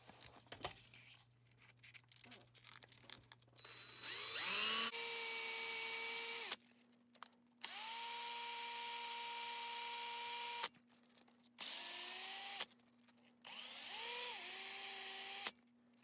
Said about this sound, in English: I'm going to sand the outer edge of the coin and the inner edge of the coin